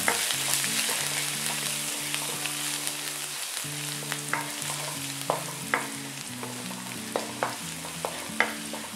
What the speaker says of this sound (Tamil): நான் குட்டி குட்டியாக கட் பண்ண பூண்டு இஞ்சி ஆட் பண்ணுறேன். ஸோ நல்லா வந்து இதை சாட்டே பண்ணிக்கணும்.